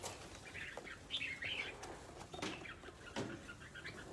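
Songbirds kept for sale call with faint, scattered chirps and tweets over a soft, noisy background, distant and low in level, with no one talking.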